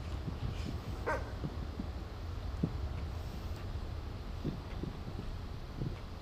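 A dog in the video game Necromunda: Hired Gun gives a few short, scattered barks and yips over a constant low ambient hum of the game world, with no one talking.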